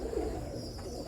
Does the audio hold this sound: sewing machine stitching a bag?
no